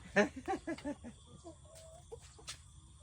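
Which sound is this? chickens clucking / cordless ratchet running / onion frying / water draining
chickens clucking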